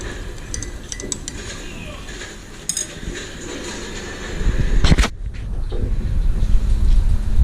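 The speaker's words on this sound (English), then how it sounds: "I'm gonna mix a coffee with a chopstick" Clinking and scraping as coffee is stirred with a chopstick in a cup, a few sharp taps and rattles standing out over low background noise, close and fairly quiet.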